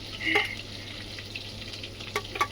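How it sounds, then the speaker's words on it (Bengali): Fish frying in a pan in a hot home kitchen sizzles steadily up close, with a few sharp spatters and stirring clinks rising out of the constant hiss. "আর আমি এদিকে মাছগুলো সব ভাজা করছি"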